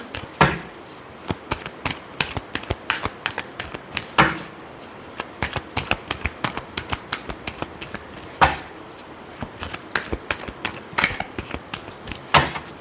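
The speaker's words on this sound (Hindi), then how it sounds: "Last shuffle." Tarot cards are shuffled close up in a steady patter of light papery clicks and slaps, with a few louder snaps scattered through.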